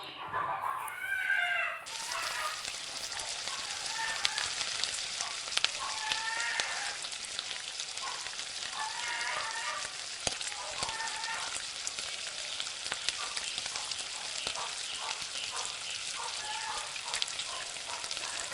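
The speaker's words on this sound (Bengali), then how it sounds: "কড়াইয়ে আমি বেশ কিছুটা পরিমাণ তেল গরম করে নিয়েছি, আর তেলের মধ্যে এই বলগুলো আমি ছেড়ে দেব।" Potato and semolina balls fry in hot oil in a wok, making a steady, bright sizzling hiss with scattered pops and crackles that starts suddenly and carries on evenly.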